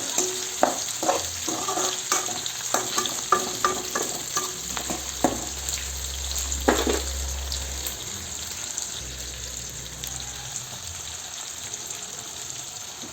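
Onions fry in a pan during home cooking, with a constant soft sizzle broken by sharp clicks and scrapes from stirring and a couple of deeper low thuds midway.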